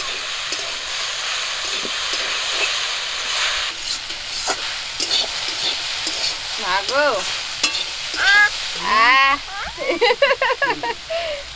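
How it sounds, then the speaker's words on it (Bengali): Taro flower pieces frying in oil, a steady sizzle with stirring, joined by someone talking and exclaiming near the end. "কচুগুলো ভাজা ভাজা করে নিচ্ছি"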